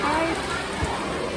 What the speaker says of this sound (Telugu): Heavy rain.